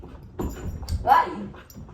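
A feisty little puppy whimpers and yips in short bursts while playing rough with its owner. The sounds are close and brief, and a person speaks over them.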